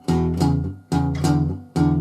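Palm-muted guitar bass rhythm, a shuffling boogie pattern over the E: chugging, damped low notes in three short phrases, close and fairly loud, with no voice.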